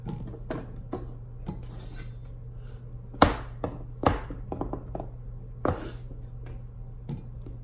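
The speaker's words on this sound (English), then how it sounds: "we're going to cut up our cubes here" A knife cuts down through cubes of melt-and-pour soap onto a hard surface in a handful of sharp, uneven knocks and clacks, close by, with quiet pauses between cuts.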